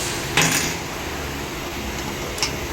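A hammer taps on a brake part of a Mercedes AMG G63 during a front brake pad and disc replacement. Two sharp metallic knocks, about two seconds apart, sound over a steady background noise.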